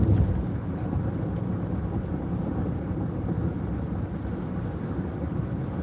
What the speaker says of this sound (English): the wind's really kicking up around here